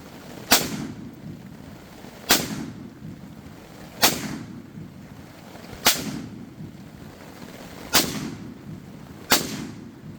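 An AR pistol with a 10.5-inch barrel, a Tibby trigger and a suppressor fires six evenly spaced shots about two seconds apart, each a sharp, fairly loud crack with a short tail, outdoors in the rain.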